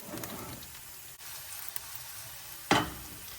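Chopped garlic fries in a pan with a faint, steady sizzle, broken by a sharp louder burst of crackling near the end, no voices.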